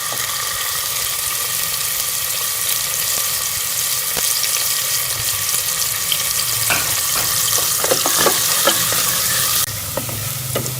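Chopped onions sizzle in hot oil for moong dal tadka, browning to light golden under steady stirring. A loud, constant frying hiss runs throughout with occasional clinks of a spoon against the pan and no voices.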